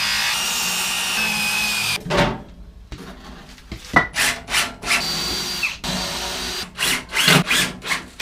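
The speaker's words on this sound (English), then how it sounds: "I'm just going to pre-drill and put through the bottom of this grill" A power drill whirs briefly, pre-drilling wood through the bottom of a grill being converted to a fire pit, followed by rhythmic rasping, scraping strokes against wood, close and loud.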